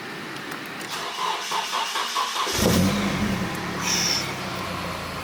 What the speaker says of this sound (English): Look at how this thing starts up.